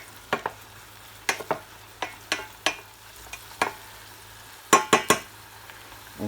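Butter sizzles softly in a pan as shallots or aromatics sweat without browning for a morel sauce, with a low steady frying hiss broken by repeated sharp spoon-on-pan stirring clinks, no talking.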